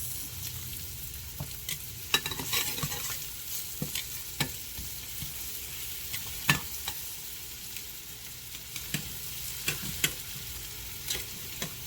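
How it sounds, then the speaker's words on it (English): Oxtails brown in a pot with a dense, continuous sizzle and crackle, marked by occasional scraping stir clicks, close and steady with no talking. "this is just a browning process, okay? And we're going to continue this"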